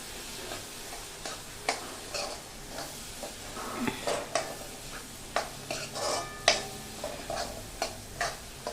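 A spoon stirs garam masala and coriander-cumin powder into Bombay-style butter pav bhaji in a pan, with irregular scraping strokes close by over a soft, continuous sizzle.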